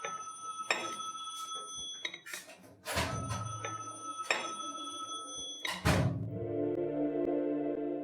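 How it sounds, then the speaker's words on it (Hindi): A telephone bell rings in loud repeated bursts across a room, broken by thuds and clatter, with a sustained tonal ring taking over in the final two seconds. "लगता है मेरा ही टेलीफोन है।"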